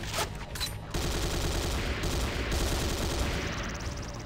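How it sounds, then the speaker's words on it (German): Rapid pistol gunfire from the video game C&C Renegade, a dense, continuous barrage of loud shots with no pauses, preceded by a brief burst of other game noise. "schon hardcore, nur mit einer Pistole rumzuballern"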